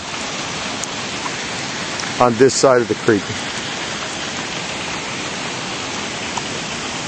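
Steady rain falling near a creek, a dense continuous hiss of drops over the whole stretch, with someone briefly talking partway through.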